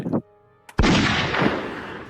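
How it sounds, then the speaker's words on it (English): A single sharp gunshot cracks out after a brief hum, its loud blast rolling into a long, decaying echo as part of a fantasy tabletop battle scene. "Your gunshot goes off."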